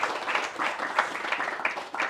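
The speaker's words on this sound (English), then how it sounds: "Give a round of applause for Marcus." Audience applause after a talk in a studio setting, a steady wash of many hands clapping at moderate distance, continuous through the whole stretch with no voices over it.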